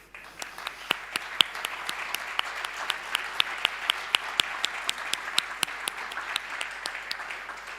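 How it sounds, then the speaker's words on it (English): A ceremony audience applauds the finalists at an awards event, a steady, dense wash of clapping with sharp individual claps standing out, sustained evenly from start to finish. "give them a round of applause"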